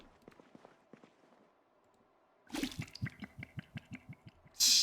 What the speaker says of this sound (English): Take a second, get a refill on my water.